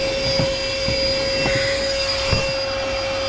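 A Chemical Guys corded handheld DetailVac vacuum cleaner runs steadily up close with a constant high motor whine and airy rush, plus a few brief bumps as the nozzle moves over a car's carpet.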